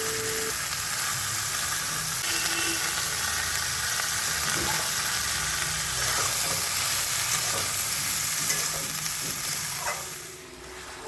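Mixed vegetables with bitter gourd for shukto, tempered with radhuni and cumin, fry and get stirred in a pan, giving a steady close sizzle with intermittent scraping and clinking of the spoon.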